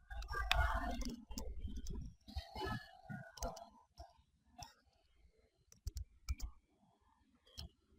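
Keys click in short irregular bursts as a gateway address is typed into a Chrome browser, near and fairly quiet, with pauses between clusters of taps.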